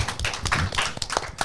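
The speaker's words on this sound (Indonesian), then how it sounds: "Oh tepuk tangan dulu buat mereka bertiga." A small group claps for three singers on an Indonesian talk show, a brief burst of uneven, fairly close claps with a few sharp individual hits, quick and irregular, loosening toward the end.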